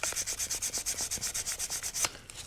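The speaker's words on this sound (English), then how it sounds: "It's actually pretty rusty, corroded-like, so let's get some sandpaper, clean that up." Hand sanding of corroded, rusty terminals on a dirtbike carburetor with 800 grit sandpaper: a steady rhythmic scratching of quick back-and-forth strokes, about eight per second, close and fairly quiet, alone.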